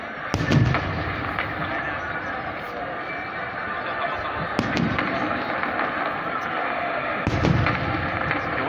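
Fireworks boom and crackle in large bursts at intervals, growing bigger and louder toward the finale, with a continuous crowd murmur and a voice talking over the scene.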